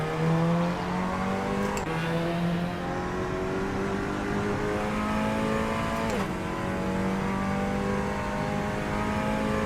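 Modded front-wheel-drive car in a racing simulator game, its engine holding a steady, moderately loud drone that climbs gradually in pitch through the gears, with two brief shifts breaking the tone.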